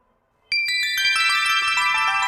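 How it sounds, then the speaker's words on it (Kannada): A mobile phone ringtone for a missed call starts abruptly after a moment of silence and plays a bright, repeating melodic pattern, loud and close, with no voices. "ಮಿಸ್ ಕಾಲ್ ಆಗೈತೆ ನೋಡ್ರಿ"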